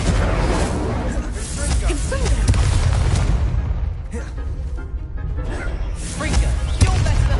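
An Incendio fire spell cast in Hogwarts Legacy gameplay: loud rumbling booms and whooshing blasts roll through, dipping briefly in the middle before surging again, with a voice speaking over the effects.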